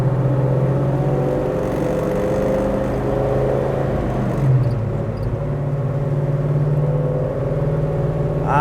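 A 1972 Chevrolet Chevelle SS with a 600 hp 496 cubic-inch V8 and four-speed pulls away, its deep engine rumble rising and dropping through a gear change, loud and steady with whirring drivetrain tones.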